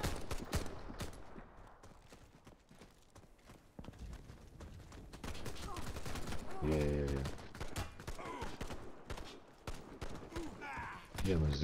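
Nagant M1895 revolver shots in a video game, several sharp reports standing out among busy game noise, footsteps and other gunfire.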